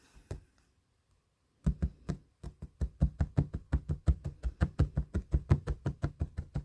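A felting needle stabs wool while a chubby seal pup is shaped, producing a quick, regular series of soft, close taps after a short pause, the rhythm steady and fast.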